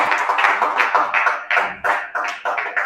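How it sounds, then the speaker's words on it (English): Meet-and-greet attendees clapping at an event, loud, close, rhythmic claps in a steady beat, some strokes sharp and distinct, with no talk over them. "A round of applause for yourself, please."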